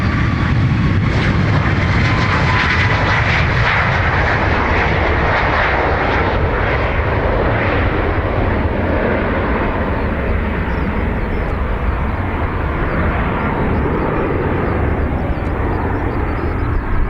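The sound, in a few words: airplane taking off, Dublin Airport runway 28 right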